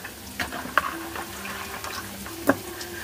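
Food stirred in a cooking pot at home, with a quiet sizzle and bubbling beneath a few distinct scraping clinks of the utensil against the pot, spaced irregularly and close up.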